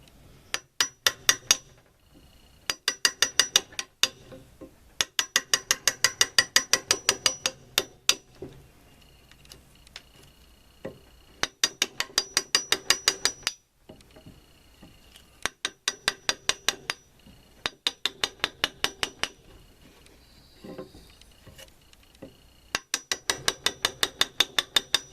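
A chisel cuts notches in wood for heavy shelves, sounding as bursts of rapid, sharp tapping strikes in repeated clusters separated by short pauses, close and fairly crisp with no speech.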